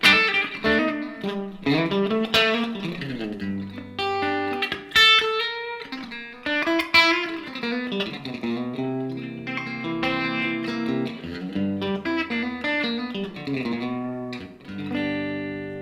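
Bright, twangy Fender Squier Mini Strat electric guitar on the bridge pickup picks out notes and strummed chords in a continuous phrase, close and fairly loud, with a light ringing tail and no voices.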